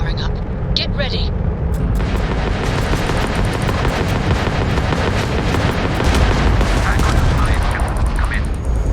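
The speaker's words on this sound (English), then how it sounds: "The ship's weapons are powering up." Spaceship weapons in Starfield fire in a dense, continuous barrage of rapid bursts and rumbling blasts, loud and sustained throughout, with a few higher whines and beeps early on.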